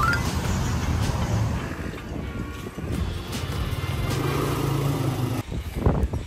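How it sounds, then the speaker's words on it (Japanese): Motorbikes on a Bangkok street, a steady close engine drone with a passing machine rising and fading, heard against rough street noise and wind buffeting with no speech. "バイクの音うるせえ。"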